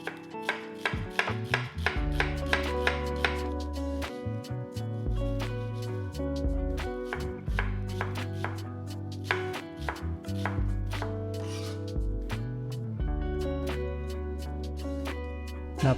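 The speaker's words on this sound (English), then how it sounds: "Start by dicing an onion." Knife chopping steadily through onion on a cutting board, a brisk run of crisp, evenly spaced taps that slows in places, close and clear with no talking, while preparing peanut-based oxtail kare kare stew.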